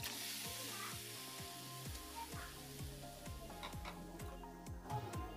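Chopped pineapple cooks in a pan on a stove, giving a steady soft sizzle with faint stirring scrapes and light clinks, quiet and even throughout.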